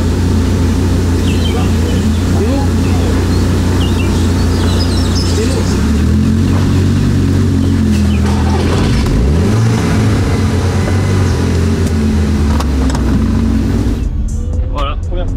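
A Lamborghini Gallardo with an aluminium body starts up and accelerates, its engine droning loudly and steadily up close, swelling and rising in pitch midway, with voices faintly present.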